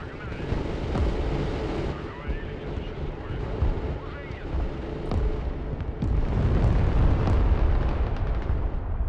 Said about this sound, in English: I just lost all my tanks in one cluster munition